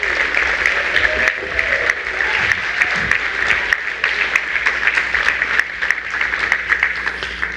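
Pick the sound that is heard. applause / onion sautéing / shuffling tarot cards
applause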